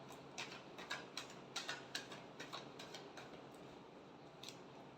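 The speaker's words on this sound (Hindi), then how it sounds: "Last shuffle." Tarot cards being shuffled, a quiet run of crisp riffling ticks in an irregular rhythm that fades toward the end, close and faint with no talking.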